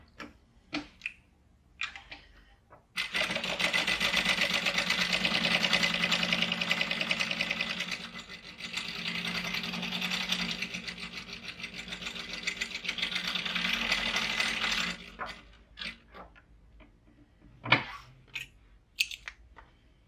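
A sewing machine stitches a half-inch seam on a Harlequin pouch panel, two steady runs of rapid mechanical whirring separated by a short dip, framed by clicks and handling noises before and after.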